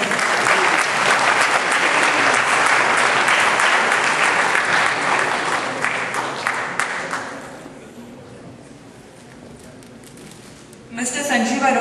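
Loud, dense applause from an audience at an Indian community gala honouring guests, sustained for about seven seconds before fading to a quieter murmur, then a brief renewed burst of clapping at the end.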